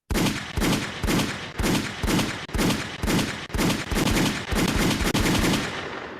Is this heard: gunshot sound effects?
yes